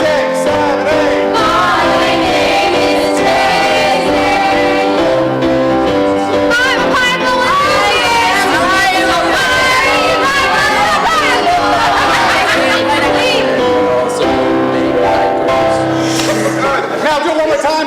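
A group sings together at once, a dense wash of many overlapping voices holding sustained pitches steadily and loudly throughout.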